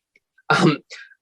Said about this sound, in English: that's my cat in the background if you heard it sneeze